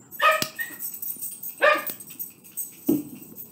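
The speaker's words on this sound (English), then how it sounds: "the dog is barking in the background" A dog barks three times indoors in the background, two sharp yips close together followed by a lower, shorter bark, with quiet room noise between them.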